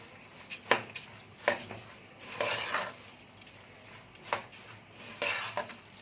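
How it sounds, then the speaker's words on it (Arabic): Rice being stirred and sautéed in ghee and oil in a pot, with several sharp spoon scrapes and knocks against the pan over a soft sizzle, close and fairly quiet. "اشوحه بس في السمنه والزيت كده"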